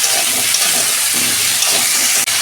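Lightly salted vegetables frying in a pan on a gas stove, giving a loud, continuous hiss and sizzle with a short sharp tap near the end.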